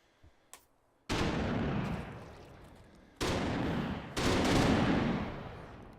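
Banana grenades detonating in the VR shooter H3VR: three loud, sharp blasts, each with a long rumbling tail, the second and third close together, after a couple of faint pops.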